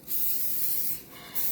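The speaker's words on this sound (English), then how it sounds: "Now, I'm going to do a little cooking spray here." Cooking spray is sprayed onto a grill: two short pressurized hissing bursts, close and fairly loud, the second brief, with no talking.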